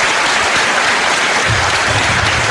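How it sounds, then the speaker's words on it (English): A live audience at UC Irvine claps loudly and densely throughout, a sustained wash of applause with no pauses. "we give them a round of applause for being reasonable and polite"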